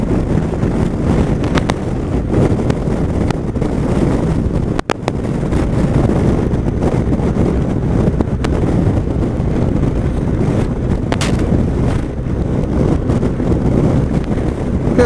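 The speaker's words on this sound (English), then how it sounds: "tired of the wind now, tired of it" Persistent strong wind buffeting the microphone during a ride, a loud continuous roar with no letup and no speech.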